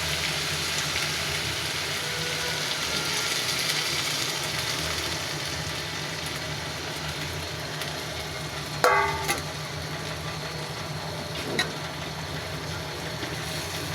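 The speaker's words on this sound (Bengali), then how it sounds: "নাড়াচাড়া করে দিব।" Chicken curry with its gravy being stirred in a pan, a steady low sizzle and scraping beneath, with a sharp clatter near the middle and another brief knock later; no talk.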